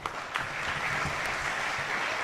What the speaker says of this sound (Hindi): यहां तो तालियां बजती हैं